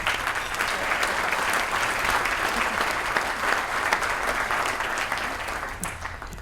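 Audience at a healthcare policy event applauds for a former senator, with steady, dense clapping that holds loud throughout and tapers slightly at the very end.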